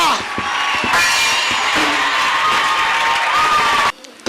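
A church congregation cheers and acclaims the Lord in a loud, sustained crowd roar of voices, shouts and scattered claps that breaks off abruptly near the end.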